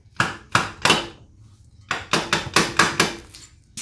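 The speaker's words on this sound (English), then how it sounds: "I'm just going to try to hammer it in there a little bit" Sharp metal-on-metal hammer blows drive a new axle into its splines on a 2011-2014 Hyundai Sonata: three quick strikes, a pause, then a faster run of about six more, close and loud.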